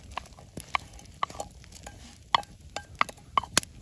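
Sparse spoon clinks and scrapes sound as a fried vegetable base is stirred into canned fish soup in a winter log cabin, fairly close, with short sharp taps over quiet background sizzle.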